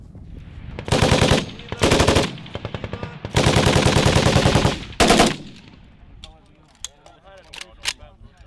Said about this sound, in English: The National Guard now are testing out some PKM machine guns, some RPK, AK-47 variant machine guns